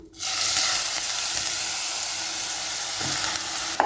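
Grated bottle gourd sautéing in ghee for a sweet payasam gives a steady, close sizzle and hiss throughout, with faint stirring and no voices.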